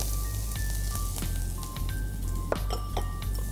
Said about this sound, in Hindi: पहले हम थोड़ा सा तेल डालेंगे, जिसमें हम सोते करेंगे garlic, ginger और chicken